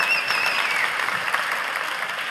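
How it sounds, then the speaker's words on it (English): Audience applause at a pitch competition grand final, steady dense clapping from a crowd filling the whole moment, with no talk over it. "Yeah, give some applause."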